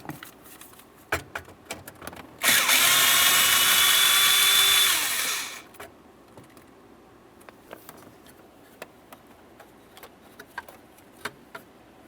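A power tool whirs loudly for about three seconds, driving out a 5.5mm bolt on the steering column of a 2001-2005 Ford Explorer Sport Trac. Quiet clicks and taps follow.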